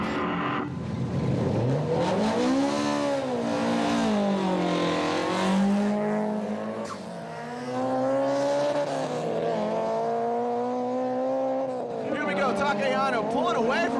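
Drift cars race with engines revving and rising in pitch, a Toyota AE86 pulling away from a Dynamic Motorsports Nissan S14 at Formula Drift 2005 in Houston, loud and continuous, with an excited commentator talking over the engine noise.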